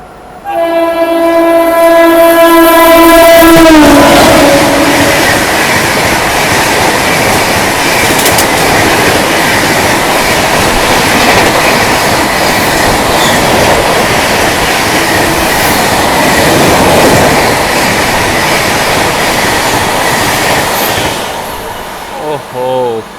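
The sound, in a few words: Mumbai Tejas Rajdhani Express train passing at speed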